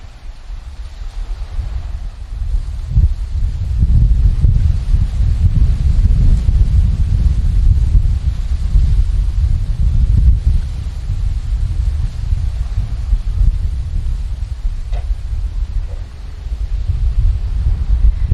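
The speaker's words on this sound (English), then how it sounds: "it's pretty windy" Steady wind buffeting the microphone during an e-bike ride in Key West, a loud low rumble that gusts and eases without pause, with no voices.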